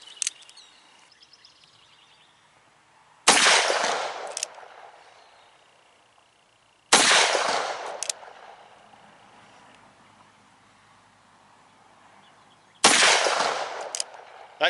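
Three loud, widely spaced .44 Magnum revolver shots ring out outdoors, each a sharp crack with a long decaying echo, with quiet gaps and faint birdsong between.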